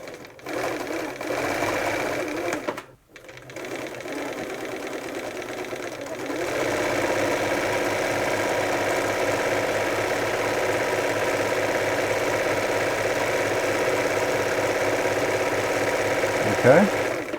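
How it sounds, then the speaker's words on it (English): A Bernina 930 Record electronic sewing machine runs a test seam, a steady close mechanical whir and needle clatter with a brief pause early on, then continuous running with a faint voice in the background. "Okay, it seems to be sewing nicely."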